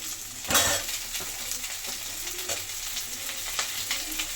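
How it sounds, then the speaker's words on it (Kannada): Cashews and tomato frying in a pan for paneer butter masala, a steady close sizzle running throughout with a few louder stirring scrapes, no voices. "ನೀಟಾಗಿ ಫ್ರೈ ಮಾಡ್ಕೊಳ್ಳೋಣ."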